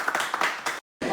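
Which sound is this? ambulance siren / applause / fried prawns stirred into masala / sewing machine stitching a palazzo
applause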